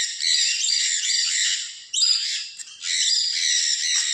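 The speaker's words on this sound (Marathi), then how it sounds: "हे पक्षी विविध पक्षी छोटे छोटे आकर्षक असे दिसणारे पक्षी आहेत त्यामध्ये खूपच ते आवाज करत आहेत कर्कश" Small birds in a zoo aviary at Bannerghatta Biological Park squawk harshly, several raspy chattering bursts running almost without pause, loud and close, with no people talking.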